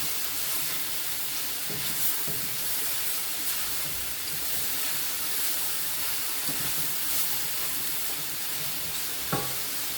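Mushrooms fry in oil in a pan for a faux steak, giving a steady, close sizzle with soft crackle throughout and a few brief stirring clicks.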